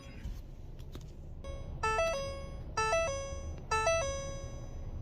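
A 2020-or-later police Ford Explorer entering park brake maintenance mode gives three loud, evenly spaced electronic chimes, each a bright two-tone ding-dong over a low engine hum, with no talk.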